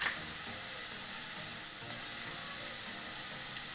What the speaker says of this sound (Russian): Буквально минуту обжариваем картошка и лук из куркумы и потом достанем.